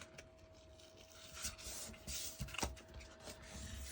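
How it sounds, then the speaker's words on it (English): Paper pages for a scrapbook recipe album are folded and burnished, producing faint, close rubbing and scraping strokes with occasional small clicks over a steady low background hum and no talk. "Fold and burnish."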